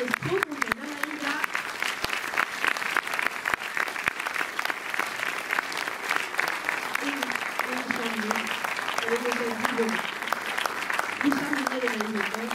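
A theatre audience applauds steadily at a cinema screening event as a film director and crew are called up, a dense, even clapping that runs throughout while a voice speaks over it intermittently.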